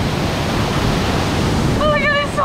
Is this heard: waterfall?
yes